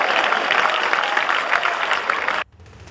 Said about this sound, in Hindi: ताली आपका बजाते हैं